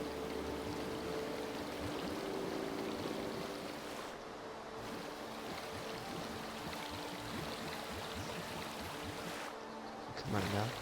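A waterfall in a video game rushes steadily at moderate volume, with a continuous watery hiss and a faint low tonal hum beneath it.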